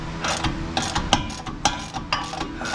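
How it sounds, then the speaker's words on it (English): A hand ratchet clicks rapidly while loosening tight bolts during a GMC Sonoma rebuild, producing dense, close, metallic ticking in uneven bursts with no talking. "sorry I keep smacking the ratchet on that"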